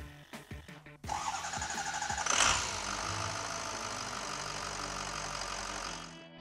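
A remanufactured 6.0L Powerstroke diesel V8 in a truck cranks with several rhythmic starter turns, then catches and settles into a loud, steady diesel idle with a clattering knock, no talk.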